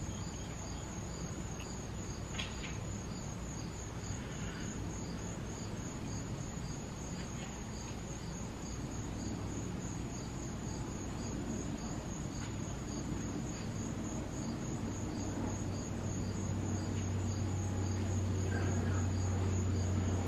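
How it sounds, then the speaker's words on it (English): Crickets chirp at night outdoors in mild weather, a steady high pulsing trill running continuously and moderately faint, with a low rumble building toward the end. "Crickets or cicada or whatever they aren't that loud tonight"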